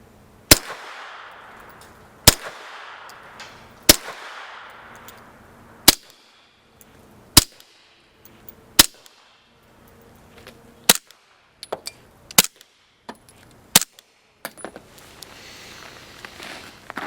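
Suppressed 9mm pistol shots through a SilencerCo Omega 9K suppressor, 115-grain ammunition: about eleven sharp, loud reports fired alone at a steady pace of roughly one every one to two seconds, with some fainter clatter between shots.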